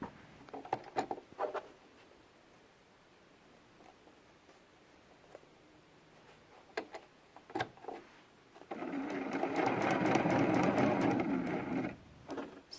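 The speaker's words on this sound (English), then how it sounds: "Sew back down to our 2-inch mark." A sewing machine stitching through a quilted pillow, with faint scattered ticks and clicks at first, then a steady whirring run of stitching for about four seconds before it stops, all quiet and close.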